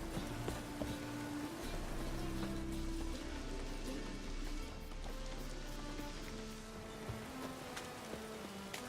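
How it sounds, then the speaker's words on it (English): Rain in the Witcher 3 video game, a constant dense patter layered with ambient game sounds and scattered clicks, steady in level across the whole stretch. "Long as I'm not at sea, let it rain."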